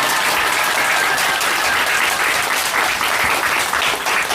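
A church congregation breaks into loud, sustained applause, a thick continuous roar of many hands clapping close by for over four seconds without letting up, no talking heard over it.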